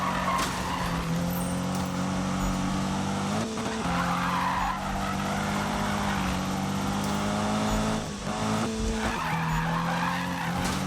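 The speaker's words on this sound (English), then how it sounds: "See what I mean by drifting?" A car drifts in Need for Speed on PC, with tires skidding and squealing continuously over a droning engine that shifts pitch a few times.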